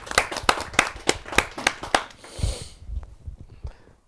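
A few audience members clap for a poet at a Hindi kavi sammelan, a short burst of sharp, fairly close claps that thins out and fades into quiet room noise after about two seconds.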